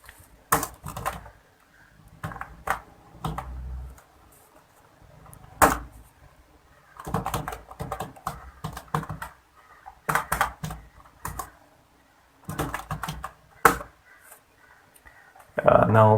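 Computer keyboard keys clatter in irregular bursts of quick taps with pauses between them, close and moderately loud, as data goes into a spreadsheet.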